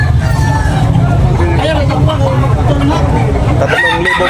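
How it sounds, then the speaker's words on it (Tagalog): A fighting rooster crows loudly amid a busy, noisy cockfighting crowd in Tabunok, with people talking and calling out bets over the steady din. "Ang manok to."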